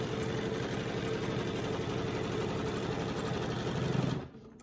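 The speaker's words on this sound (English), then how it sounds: "So now using just free motion, I'm going to quilt on my line." A sewing machine runs steadily during free-motion quilting along drawn lines, a fast, even mechanical whir and needle chatter close by, cutting off abruptly near the end.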